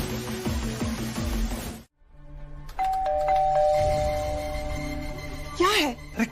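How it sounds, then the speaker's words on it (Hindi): A doorbell rings again and again at a house door during a tense family drama scene, its repeated chimes cutting through background music and voices. "इतनी बार बेल बजा चुकी हूँ, उनको दरवाजा खोलना चाहिए ना।"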